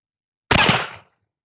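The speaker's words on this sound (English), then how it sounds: "First shots with the new 1851 London Navy" A single loud, sharp gunshot from an 1851 London Navy black-powder revolver fired outdoors, followed by a short decaying tail and then silence.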